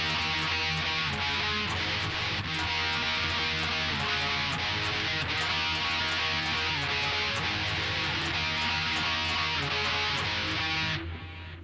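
A song strummed on guitar in standard tuning rather than tuned down a half step, a dense, steady full-band-like wash of chords that plays loud and continuous before cutting off at the end.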